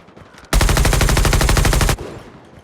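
Automatic gunfire from Call of Duty Mobile rattles in one loud, rapid sustained burst of about a second and a half, close and harsh, then cuts off abruptly.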